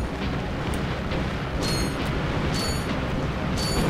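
Bomb Glove bombs exploding in the Ratchet & Clank HD game, heavy booming blasts under a continuous roar, with several sharper bursts arriving in quick succession near the end.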